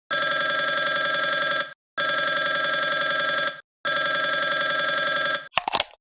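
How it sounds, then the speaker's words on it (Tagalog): A telephone rings in three long, loud bursts with short silent gaps between them as a call goes through to a police department, then a click and handset rattle as the line is picked up. "Ringing the police department."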